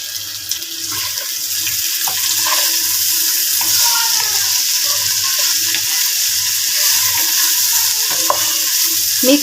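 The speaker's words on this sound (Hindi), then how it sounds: "और अब मैं इसको मिक्स कर लूँगी।" Stuffed okra (bhindi) is stirred in a pan, giving a loud, continuous sizzle with a steady rhythm of close scraping strokes and occasional utensil clicks.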